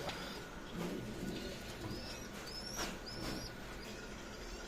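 Soft, low pigeon coos repeat over a steady background hum, with a few faint chirps and rustles scattered through.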